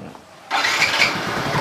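A Yamaha X-Ride scooter engine starts after a brief quiet moment, catching quickly and settling into a steady close running note with no talk.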